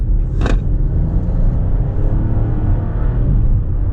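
A 2026 Chevrolet Trax LS engine hums steadily with low rumble as the subcompact SUV rolls along a mall parking area, loud and close, with a brief hiss near the start.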